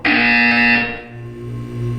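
In the video game Portal 2, a loud electronic buzzer sounds once, a harsh tone held for under a second before it cuts off and fades into low hum.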